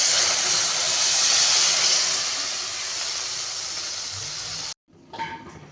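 Water poured into a hot pan for a vegetarian raw-banana kofta curry sets off a loud, steady steam hiss that lasts about five seconds and cuts off suddenly, leaving quieter bubbling and simmering after it.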